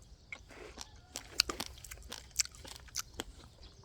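Freshly picked, unwashed garden produce is bitten and chewed up close, giving a quick series of crisp, wet crunches with short pauses between them and no talking.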